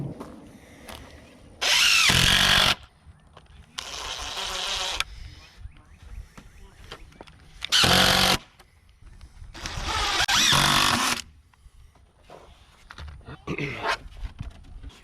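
A power tool trims the end of a garden bed board in several short, loud bursts of whirring cutting, separated by quieter handling noises and pauses.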